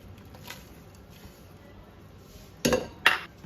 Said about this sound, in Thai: เราก็จะใส่เห็ดหอมค่ะ